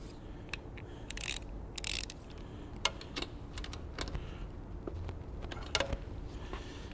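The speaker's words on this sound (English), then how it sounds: "Now, torque the big one to spec." A torque wrench tightens the larger rear brake caliper bolt on a Suzuki GSX-R motorcycle. It gives a series of light mechanical clicks and ratcheting ticks, close and fairly quiet, spread irregularly over a faint background hiss.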